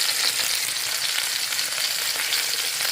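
Vegetables sautéing in a pan, a steady close crackling sizzle of oil that runs unbroken throughout with no voices.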